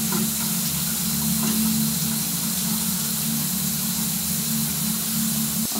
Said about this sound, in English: I will digitally enhance the resonant frequency of the shower so that you may hear the tones.